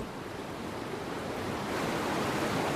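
Roaring whitewater of the Colorado River rapids in the Grand Canyon, a steep, rocky drop, heard as a broad, continuous rushing wash that swells slightly louder toward the end, with no voices.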